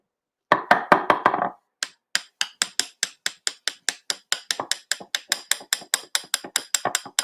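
A dish of peanut butter cup pudding being tapped down on a surface, making sharp repeated knocks close by: a quick cluster first, then a long, steady run of evenly spaced taps.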